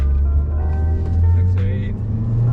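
An 11th-generation Honda Civic RS accelerating on the Sepang track, a loud low engine drone heard from inside the car with rising tone, while people talk over it.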